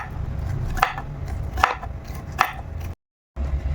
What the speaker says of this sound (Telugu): ఇదిగోండి, ఇలా పల్చగా సన్నగా కట్ చేసేసుకోవాలి అన్నీ కూడా.